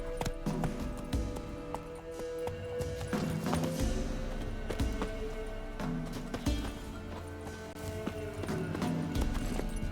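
Roach, a horse in The Witcher 3: Wild Hunt, gallops with rhythmic pounding hooves and a whinny over low background music, the beats steady and close for the whole stretch.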